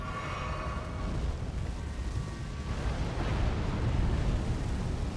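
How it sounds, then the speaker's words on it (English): Homing missiles exploding in the video game Elden Ring, a dense, continuous rumbling roar of blasts with a heavy low-end wash that builds slightly over a few seconds, loud and alone without talk. "These are homing missiles."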